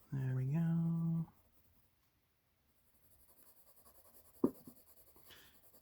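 Colored pencil scratches softly on paper in short, faint strokes, coming in after a brief voiced sound at the start and a stretch of near silence.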